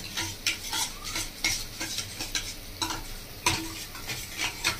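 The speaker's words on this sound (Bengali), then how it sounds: "এই চামচটা 1 চামচ গুঁড়ো দুধটা এর সঙ্গে মিশিয়ে দেবো।" A spoon stirs powdered milk into a sizzling prawn malai curry, with repeated scraping strokes against the pan over a steady low frying hiss, close by and without voices.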